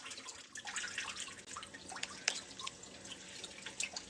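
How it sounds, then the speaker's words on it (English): Tap water runs steadily at close range, a continuous splashing stream with small drips and droplet ticks scattered through it. "Let me just turn the water down."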